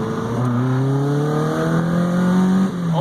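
A VW Golf MK2 GTI engine converted to motorcycle carburetors revs loudly and close up. A sustained drone climbs slowly in pitch and then drops off near the end.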